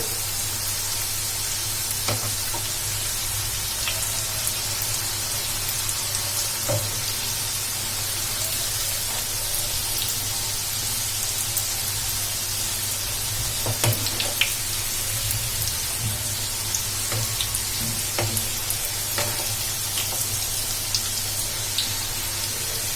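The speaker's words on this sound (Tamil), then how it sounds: "அதனால மீடியமான ஃப்ளேம்ல வச்சுட்டு நம்ம ரெண்டு சைடும் ஃப்ரை பண்ணி எடுத்துக்கலாம்" Snacks of wheat flour stuffed with egg fry in oil with a steady, even sizzle that continues throughout, broken by small scattered crackles and light pops.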